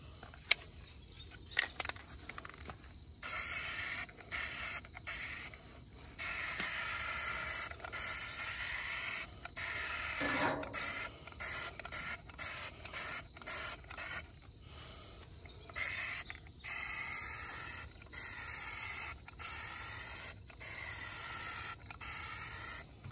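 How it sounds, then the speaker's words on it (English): A pump sprayer hisses in repeated bursts of varying length while spraying down a camper trailer, separated by short pauses, with faint mechanical clicks and creaks between sprays. "let's spray down the whole trailer"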